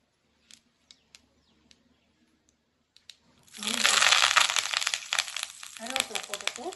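Mustard seeds dropped into hot oil for a salsa side dish for chapati burst into dense, loud crackling and popping after a few soft taps in a quiet kitchen.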